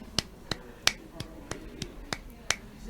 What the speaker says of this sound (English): Can you clap please, Andrew?